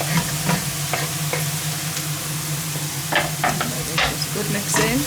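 Onions, leeks, carrots and celery sizzle steadily in a pan for a ragu while being stirred, with repeated close scraping and clattering strokes over the continuous frying hiss.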